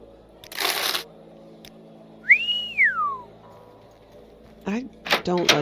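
A single rising-and-falling whistle in modded Morrowind, bright and clear near the middle, set among shuffling noises and short bursts of speech-like sound.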